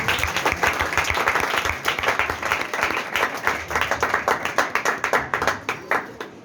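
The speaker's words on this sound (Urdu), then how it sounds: "آئے اس نجات دہندہ کے لیے زوردار تالیاں بجائیں" An audience at a church sermon claps steadily, a dense, loud burst of applause that continues throughout and thins slightly toward the end.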